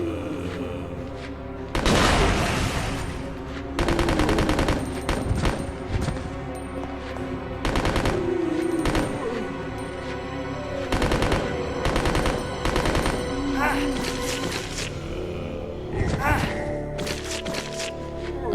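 Repeated bursts of automatic gunfire from a pair of guns in the video game Resident Evil Code Veronica X, loud rapid volleys separated by short pauses, with a player talking over parts of it.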